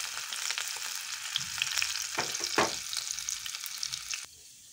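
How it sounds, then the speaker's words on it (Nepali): Fenugreek and finely chopped ginger frying in hot oil, a continuous moderate sizzle with crackling pops and stirring scrapes, cutting off abruptly near the end. "त्यसपछि राखिदिएँ मैले यहाँ काटेर मसिनो पारेको अदुवाको पिसलाई।"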